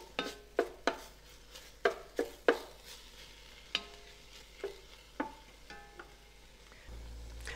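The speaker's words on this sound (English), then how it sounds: "while that meat is browning" Ground meat browning in a pan for taco pasta, a soft steady sizzle broken by repeated scraping and clacking of a utensil stirring against the pan, fairly quiet and close, with no talking.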